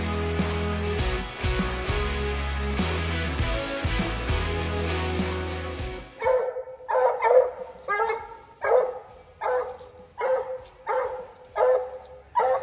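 A Bluetick Coonhound barks and bays on a raccoon hunt, first a long loud stretch of howling over other noise, then a run of separate repeated barks at a steady rhythm, fairly close.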